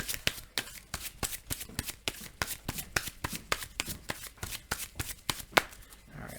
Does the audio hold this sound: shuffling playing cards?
yes